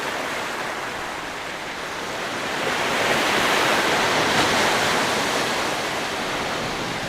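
Sea waves roll onto Bheemunipatnam beach in the evening, a steady, loud broadband wash of surf that swells in the middle and stays dense throughout, with no voices.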